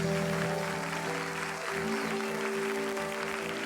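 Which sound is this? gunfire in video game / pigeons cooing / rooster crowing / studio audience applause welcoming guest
studio audience applause welcoming guest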